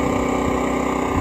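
A dual fuel 3300 watt inverter generator runs steadily from close range, a loud continuous engine drone with even mechanical pulsing and no breaks, alone without any talk.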